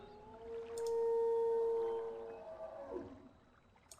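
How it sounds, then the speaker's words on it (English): Long, rising and falling whale-like howl echoing through the video game Riven, a sustained tonal moan lasting a couple of seconds before fading, with a few faint clicks around it and no talk. "Maybe that howl. Maybe it's some sort of whale."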